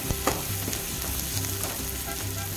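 Finely chopped small onions sizzle as they sauté in a pan, a close, steady frying crackle with a soft stirring scrape.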